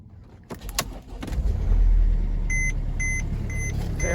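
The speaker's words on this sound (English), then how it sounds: "we're going to do the first sort of cold start for my ownership period with this car" A Mercedes-Benz GLK250 with the OM651 diesel engine, 153,000 miles, cold-starts at about 21°F: a few clicks and a short crank, then the engine catches into a steady rumbling idle while a chime beeps repeatedly.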